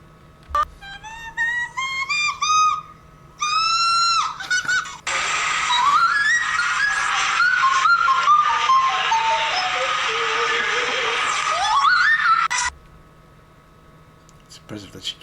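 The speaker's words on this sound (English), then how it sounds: "It's impressive that she can do an A4 and whistle." A female singer slides through high whistle-register vocals, thin piercing squeaks and sustained glissandos that climb and fall, with brief breaks between phrases.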